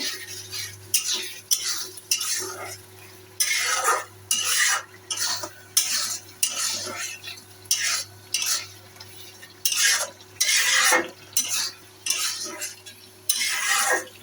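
Spice paste with turmeric is stirred in a pan for mustard hilsa, with repeated loud scraping strokes of a metal spatula in a steady rhythm over a low sizzle and background hum.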